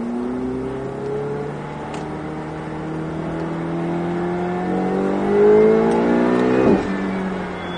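A Ferrari 488 GTB accelerates hard on a race track near Perpignan, its engine note climbing through rising, sweeping harmonics, swelling loudest toward the end before a sharp shift and drop.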